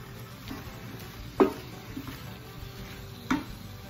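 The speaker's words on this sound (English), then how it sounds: "And we're just gonna go ahead and stir." Chicken stir fry with green and red peppers sizzling steadily in a pan while being stirred, with two sharp utensil knocks against the pan over the constant frying hiss.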